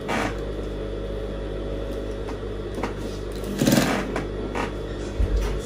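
A sewing machine stitching loops onto a corset, running in a steady, continuous mechanical whir throughout, with a brief louder clatter near the end.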